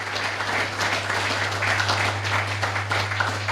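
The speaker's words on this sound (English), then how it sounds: "can you guys give these guys a huge round of applause?" An audience at a Bitcoin Veterans open house event gives the panelists a big round of applause, steady dense clapping throughout, with a constant low electrical hum underneath.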